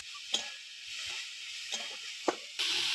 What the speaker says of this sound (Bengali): এবার চিংড়ি মাছটা একটু সামান্য ভেজে নেব।